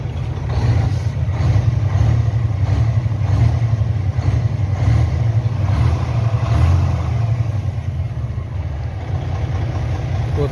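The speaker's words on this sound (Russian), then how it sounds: "Мотор же очень мягко работает." A turbocharged car engine idles smoothly and steadily up close, a continuous low rumble that holds even throughout with no revving.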